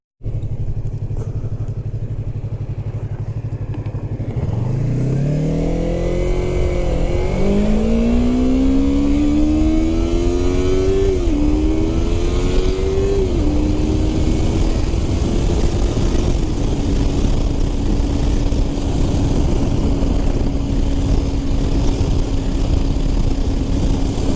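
A motorcycle ridden in Texas starts up and accelerates: loud, close engine noise whose pitch climbs and drops through several gear changes, then settles into a steady cruising drone under rushing wind.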